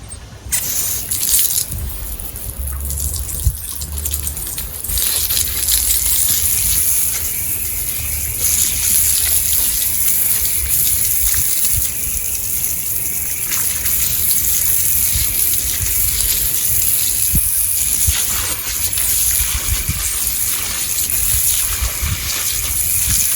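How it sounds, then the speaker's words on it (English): A hose sprays water steadily over a garden pond's viewing window, a loud continuous gushing rush lasting throughout with slight shifts as the spray moves. "And then another hose down."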